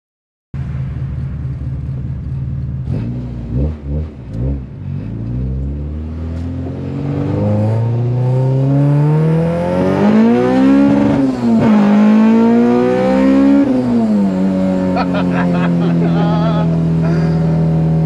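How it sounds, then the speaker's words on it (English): A 180+ kW all-motor Honda Civic VTEC accelerating hard, loud engine note climbing through the revs with rising pitch, a brief lift and shift, then sustained high-rpm howl, heard from inside the car. "you have to drive in an all-motor high-powered Civic to know how fun this is"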